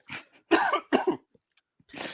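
A fit of harsh coughs, three or four close bursts, then a brief pause before one more cough starts.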